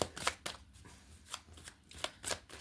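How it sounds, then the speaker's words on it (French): Tarot cards shuffled and set down on a surface, a handful of close, soft papery swishes and slaps spaced irregularly over a few seconds. "On va les recouvrir ces deux-là parce qu'on va mettre une troisième carte."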